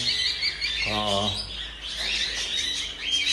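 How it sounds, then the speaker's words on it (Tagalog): Small aviary birds chirp and tweet steadily at close range while cages and poop trays are cleaned, with a brief low voice or hum partway through. "Yun ang mga kaibon."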